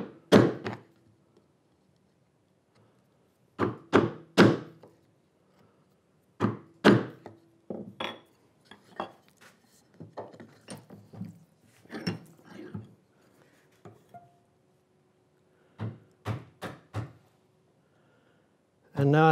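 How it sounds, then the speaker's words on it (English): Steel chisel struck with a mallet to chop waste from a wooden half-lap dovetail joint, heard as sharp, close, irregular thunks in clusters of two or three with short pauses between. "Keeping this chisel as perpendicular as I can"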